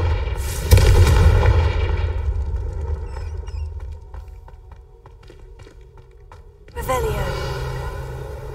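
Two loud Confringo fire-spell blasts in Hogwarts Legacy, one near the start and one near the end, each striking with a heavy boom that rings out and slowly fades, with quieter tapping and tonal game sounds between them.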